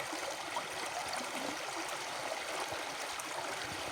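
Water sloshing steadily as sand is swirled and shaken in a gold pan during gold prospecting, a continuous close wash with no speech.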